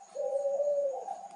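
A zebra dove (perkutut) coos once in a single sustained, mellow call rising slightly at the end, fairly faint and heard alone against a quiet night background.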